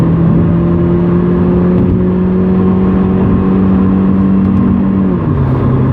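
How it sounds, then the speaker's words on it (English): A Hyundai Genesis Coupe 2.0T with a Solo Performance catback exhaust holds a loud, steady droning engine note close by, then the pitch drops near the end as it downshifts. "The exhaust just added this deep tone rumble to the sound of my car, and I like it."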